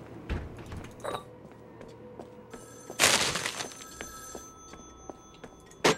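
A telephone rings in the video game Joe's Diner, bursts of ringing amid creaks, clicks and background game noise, with no talking.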